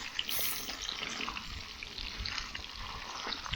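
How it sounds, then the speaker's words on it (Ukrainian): Potatoes with pork belly fry in oil on a harrow disc cooked outdoors, a soft, steady crackling sizzle heard at a distance and low in level throughout. "зараз починається основний етап це обсмажування і приготування картопельки"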